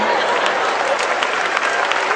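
Loud, close applause from a comedy-show audience fills the moment, dense and even clapping from start to finish with some crowd murmur mixed in.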